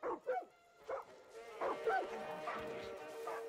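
A dog in the Far Cry 6 video game gives a few short yips and barks near a house by a river, moderately close, over a steady game ambience.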